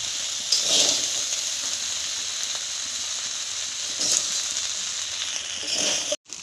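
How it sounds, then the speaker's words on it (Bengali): Cooked rice sizzling and frying in a pan for wedding-style fried rice, a steady bright hiss with brief louder flares of crackle, close and continuous, ending in a short pause. "দুটা হাই করে ভাতটা আমি ভেজে নেব।"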